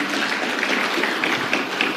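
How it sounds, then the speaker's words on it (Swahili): An audience at a Merck Foundation conference session gives a dense, steady round of applause, many hands clapping at once at close range and fairly loud for the whole stretch, with no speech over it. "naomba tumpigie makofi tena kwa remarks zake"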